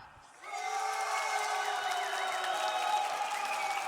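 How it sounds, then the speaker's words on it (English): A large arena crowd at a Six Jönköping Major semifinal esports event cheers and applauds for Team Liquid, a sustained roar with whoops that swells in and holds steady. "I know this crowd wants to make some noise for Liquid and Palu right now."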